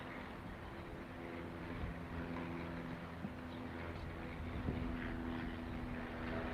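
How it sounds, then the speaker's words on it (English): An airplane takes off from San Carlos airport, heard from a creek nearby as a steady, moderately distant engine drone with propeller-like tones that holds throughout. "Plane taking off from the San Carlos airport."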